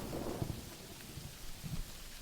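Rain and low rumbling thunder, a steady wash of rainfall with soft rolls of thunder underneath, heard quietly with no voices.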